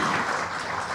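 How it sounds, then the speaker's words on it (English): Audience at a Mumbai conclave panel session claps in a steady, dense wash of applause throughout the brief moment, with no voices rising above it. "A huge round of applause."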